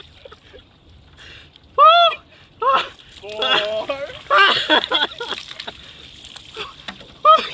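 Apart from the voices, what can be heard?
bucket of ice water poured over a person, splashing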